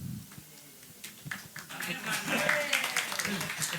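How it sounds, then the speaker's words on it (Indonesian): Applause at an organisational strategy discussion session, starting as a few scattered claps under a voice and then swelling into fuller clapping from a small group in a room. "boleh tepuk tangan untuk Kang Arif"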